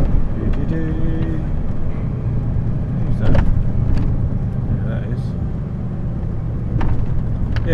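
A car drives in through a gate with a steady low road rumble and wind buffeting, while people chat inside the vehicle throughout.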